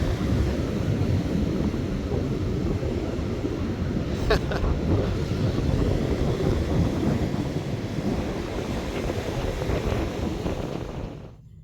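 Strong wind buffeting the microphone with a constant roaring rumble at a Florida beach with rough surf, Gamble Rogers State Recreation Area, then cutting off at the end.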